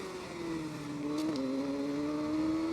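Racing motorcycle engine in TT Isle of Man 2, a steady high-pitched drone holding one pitch, dipping briefly and climbing again, loud and continuous with no talk.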